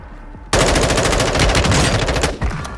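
Loud, sustained automatic gunfire from Call of Duty: Modern Warfare II, a dense rattling burst that erupts suddenly after a quiet moment and runs for over two seconds before easing slightly.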